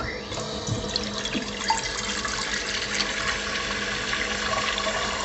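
Steady rush of tap water pouring into a pot, a continuous hiss and splash with no talking.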